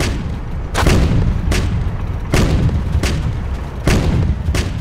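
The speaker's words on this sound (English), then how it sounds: "now let's use the main gun" A tank's main gun firing in the video game Home Wars, giving four loud, heavy booms spaced roughly a second apart over a continuous dense rumble.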